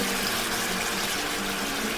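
Water runs in a steady, close trickling stream as liquid is squeezed out of fermented pickled Chinese preserved vegetables in a kitchen, continuous with no pauses or voices.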